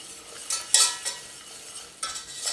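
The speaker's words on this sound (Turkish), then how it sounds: "bir çırpıcı ile şöyle güzelce karıştırıyorum. Biraz kavuracağım." A whisk stirs a flour-and-butter roux in a pan over low sizzling, making a few quick scraping swishes and light metallic clinks close up.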